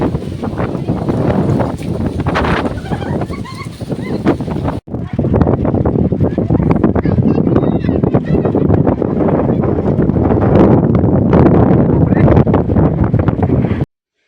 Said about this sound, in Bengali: এই যে ঝড় বাতাস তোমরা দেখতে পেয়েছো